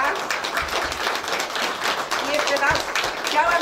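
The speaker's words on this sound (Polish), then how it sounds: "Dziękujemy serdecznie państwu za uwagę" After a performance at a local history event, an audience claps in a steady, even patter of mid-level applause that holds for a few seconds, with some voices underneath.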